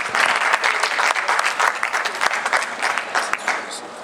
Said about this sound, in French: Je trouve que ça mérite d'autres applaudissements.